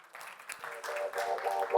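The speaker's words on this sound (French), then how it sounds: "Je vous demande d'applaudir Pierrick Dutoit" Audience applause at a French Meta marketing masterclass on AI, a dense crowd clapping that swells steadily over about two seconds while tonal music rises underneath.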